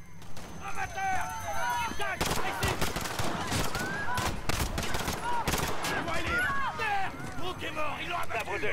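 Rapid bursts of gunfire in the video game Call of Duty: Modern Warfare crack repeatedly, loud and close, during a Piccadilly Circus shootout, overlapping with voices talking and shouting throughout.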